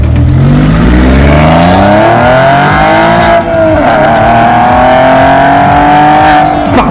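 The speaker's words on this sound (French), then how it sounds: "c'est parti pour les 0 à 90 km/h des voitures." Cars accelerate hard from a standstill to 90 km/h on a road, engines revving loudly and rising steadily in pitch with a brief gear-change dip midway, close and dominant throughout.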